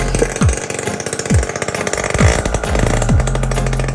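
A rebuilt no-name 50cc engine with a new top end runs loudly and close, its busy buzzing drone broken by repeated revving surges, steady for the whole stretch with no talk.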